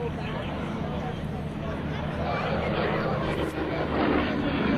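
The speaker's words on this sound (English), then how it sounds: "some great flying here formation of the two Yak aircraft" Two Russian-built Yak aircraft fly in formation at an airshow, a steady broad engine drone holding loud throughout with a slight swell near the end, while a commentator talks over it.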